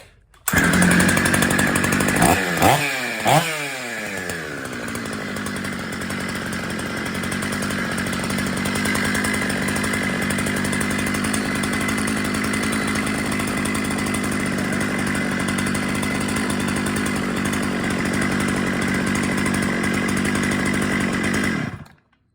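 A ported Jonsered 630 chainsaw starting up and running, a couple of quick revs followed by a long steady high-pitched engine drone held for nearly twenty seconds, close and loud with no talking.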